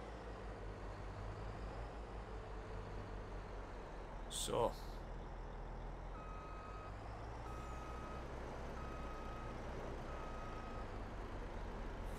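A Farming Simulator 22 truck rumbles at a low steady idle while a reversing beeper repeats at regular intervals in the second half, with a brief hiss early on and someone talking briefly.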